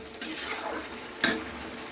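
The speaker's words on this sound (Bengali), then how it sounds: "এবার আমি মশলাটা এইভাবে কষে নিচ্ছি" A spatula scrapes and stirs a spice paste with ginger and garlic in a frying pan, two distinct scraping strokes over a soft sizzle, close and moderately quiet.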